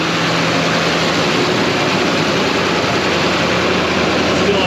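A performance alternator spins on a test rig at 1200 RPM, giving a loud, steady mechanical drone with dense broadband whine that holds constant throughout.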